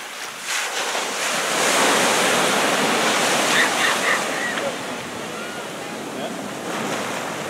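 Ocean waves roll and wash steadily onto the shore at Myrtle Beach as the tide comes in, a continuous broad surf roar with some wind noise and no talking.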